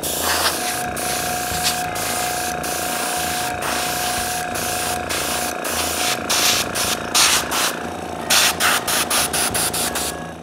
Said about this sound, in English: It's easy to spray just the right amount of varnish in the small thousands of holes without filling them with varnish.